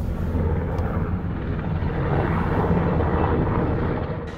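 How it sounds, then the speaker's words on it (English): A rescue helicopter flies overhead, its steady broadband engine and rotor roar filling the scene at constant, fairly loud level throughout with no voices. "one day we heard a plane we weren't used to, and we looked out the window and it turns out that it was a rescue helicopter"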